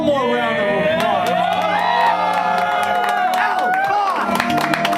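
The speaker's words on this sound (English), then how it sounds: "Can we get one more round of applause?" Cheering and clapping from a live music audience, a dense roar of shouts and whoops blended with applause, loud and sustained throughout, with voices rising above the crowd.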